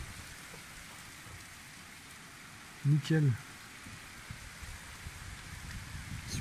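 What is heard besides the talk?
rain storm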